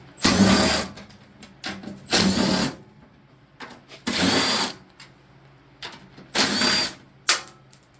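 A power tool fitted with a 3/8 inch socket removes an engine bolt on a Simplicity 860 snowblower, running in four or five loud bursts of one to two seconds each with quiet gaps between.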